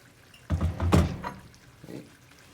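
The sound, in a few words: hot water poured over barberries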